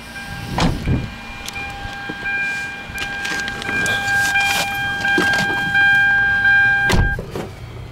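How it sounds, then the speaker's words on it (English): Car power windows running inside a well-kept used vehicle, a steady whirring motor hum with clicks and thumps as the glass starts and stops, close by with no talking. "it's got power windows and locks"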